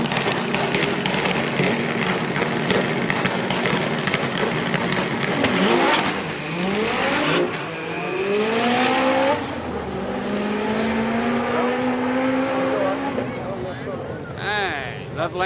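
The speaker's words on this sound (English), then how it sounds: "Why does this Civic sound so much deeper?" Deep-toned Honda Civic street car engine revving and accelerating hard at a street car night, its pitch sweeping upward through several gears, loud and nearby amid crowd noise and talking.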